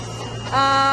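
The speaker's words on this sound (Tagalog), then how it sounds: "Ito po yung Kuwi printer." A DTF printer starts up indoors, a steady mechanical hum joined halfway through by a louder, sustained tonal whine with buzzing harmonics as the machine runs, close and continuous.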